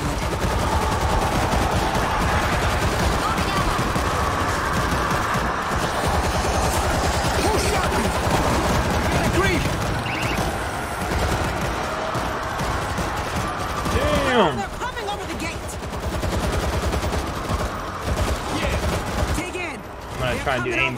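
Dense, continuous gunfire from the World War Z video game, rapid machine-gun bursts and overlapping shots filling the scene loudly throughout, with a player talking over it at times.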